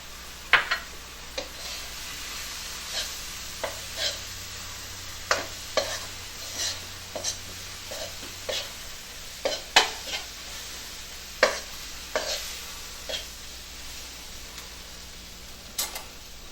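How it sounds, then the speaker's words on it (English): A spoon stirs flour into a mixture in a pot to make a roux for crawfish étouffée, giving repeated scraping and tapping strokes at an uneven rhythm over a faint steady sizzle, close and moderately loud with no talking. "And then we're going to stir it all together."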